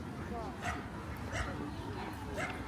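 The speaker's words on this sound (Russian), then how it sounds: "Собак много." Several dogs bark and yip in short bursts amid a busy outdoor crowd at a dog show in a park, with people talking throughout.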